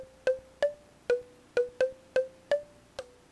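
Eight short plucked progressive house synth notes, made in Logic Pro X's Ultrabeat, ring out one at a time at a steady, slightly uneven pace, each with a sharp attack and a quick decay.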